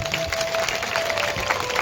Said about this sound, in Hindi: ताली बजा देंगे जोर से।